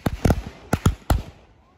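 Firecrackers set off by hand burst in a quick cluster of sharp, loud bangs, five cracks in about a second and a half, with a short decaying echo after the last.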